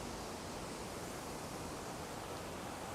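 Beside Cheonggyecheon stream in Seoul, a small waterfall pours as a steady, even wash of broadband rushing water, faint and constant throughout with no voices.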